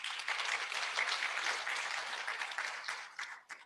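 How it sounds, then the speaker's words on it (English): An audience at an International Women's Day celebration at the Kenya School of Government in Nairobi bursts into lively applause with distinct claps. The applause holds strong, then thins and dies away at the end. "Can we give a clap?"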